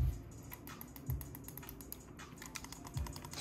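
Rapid clicking on the buttons of a Roccat Kone Pro Air wireless gaming mouse: a dense run of crisp, close-up clicks alone with no voices, plus a few duller low thumps.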